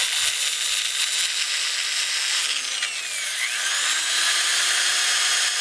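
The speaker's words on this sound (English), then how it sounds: "Sanding my rim." Sandpaper rubs against the rim of a spinning wooden bowl on a lathe, a loud continuous hissing abrasion over the motor's hum, with a brief sweeping change in pitch midway.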